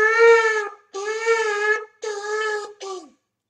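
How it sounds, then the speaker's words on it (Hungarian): Shofar blown in broken notes (shevarim): three sustained, harmonically rich blasts each lasting under a second, followed by a shorter fourth note that bends downward, loud and close with clean gaps of silence between. "Akkor most a szagatat hang."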